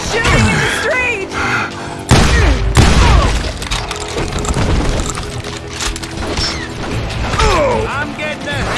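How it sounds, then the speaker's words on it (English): Gunfire crackles down a street in the Western shooter Call of Juarez: Gunslinger, with sharp loud bursts around two and three seconds amid clattering mechanical action, while voices speak over the fighting. "They're shooting in the street!"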